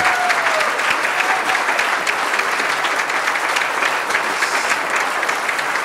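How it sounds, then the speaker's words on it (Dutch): A studio audience at a local business TV programme applauds a female winner and the other candidates, with steady, dense clapping that holds at an even level throughout with no voices. "Nog een applaus voor onze winnares, maar ook voor alle andere kandidaten."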